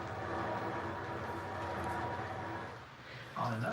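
A train backs up near a swing bridge, its low rumble steady and fairly loud, easing off briefly before a louder burst near the end; voices can be heard talking over it.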